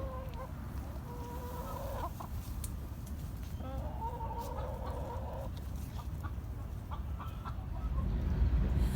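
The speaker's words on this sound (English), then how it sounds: "the chickens are just eating and hiding out over here and enjoying their time" Chickens cluck softly in short bursts nearby, several calls spaced over a steady low rumble of background noise, no talking.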